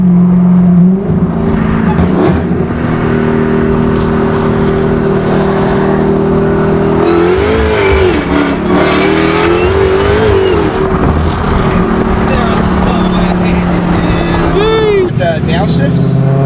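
A 1000-horsepower Dodge Charger Hellcat pulls hard at full throttle, its loud engine roar climbing and surging with gear changes, while people talk and react over the noise inside the car.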